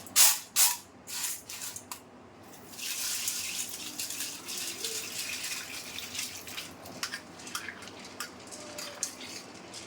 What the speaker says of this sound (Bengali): এখন আমি ছোলার ডালটাকে ধুয়ে নেব।